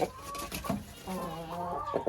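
Hens of the same age squabble in a coop, giving agitated clucks and squawks over about two seconds, close and fairly loud.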